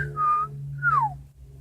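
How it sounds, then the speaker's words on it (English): A short two-note whistle from a person: a steady tone, then a higher note sliding downward, close and clear over a low background hum. "Here I am just whistling."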